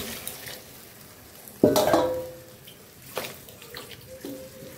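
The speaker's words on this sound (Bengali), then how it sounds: "জল দিয়ে দিলাম।" Water poured into a pot of fried fish pieces cooking in a simple village kitchen; one loud, short splash and gush followed by quieter pouring and sizzling, with no voices.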